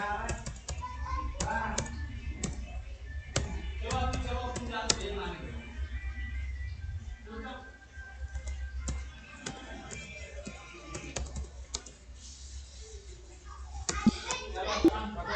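Rapid keyboard typing on a computer while entering a narration in Tally Prime accounting software, steady bursts of close key clicks with short pauses, under quiet talk.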